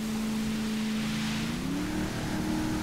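Modded speedboat racing across the ocean in GTA 5, a steady engine drone with a tone that rises as it picks up speed, over constant wash of water, loud and continuous.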